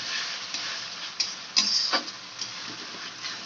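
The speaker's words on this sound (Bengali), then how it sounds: "টমেটো পিউরিটাকে ততক্ষণ মিক্স করবো যতক্ষণ তার থেকে রস মেলটা না চলে যায়" Tomato puree being stirred into a frying masala in a pan, with soft scraping and faint sizzling ticks heard close up, no talk.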